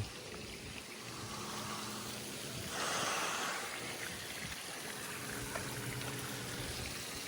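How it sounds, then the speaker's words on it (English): Continuous splashing water from a hotel fountain at Walt Disney World, Florida, a steady broadband rush, moderately loud and unbroken, swelling briefly midway. "Beautiful lakes and water fountains all over."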